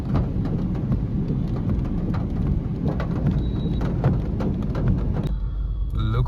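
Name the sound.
rain falling during city traffic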